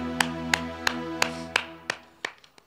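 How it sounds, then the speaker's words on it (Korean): Congregation clapping at a church service, a series of about eight sharp, evenly spaced claps over a low sustained organ or keyboard tone, slowing and thinning toward the end. "하나님께 박수로 영광 그리고 할렐루야"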